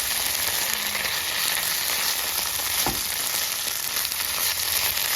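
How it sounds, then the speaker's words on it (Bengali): Ginger garlic paste fries with onion in a pan, giving a loud, steady sizzle throughout with one brief clink partway through. "আদা রসুনটা আমার ভালোভাবে ভাজা হয়ে গেছে"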